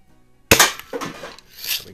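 A Red Ryder BB gun carbine fires at a cardboard target, one sharp crack followed by a couple of lighter mechanical clacks as the lever is worked, all close and clear.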